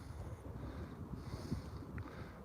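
Wind blowing across the microphone on a high fell in Lancashire, a faint gusty rumble with soft buffeting bursts and no talk.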